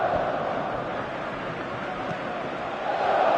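A football video game's stadium crowd roars steadily, a dense, even wash of massed voices urging a player to shoot, swelling slightly at the end.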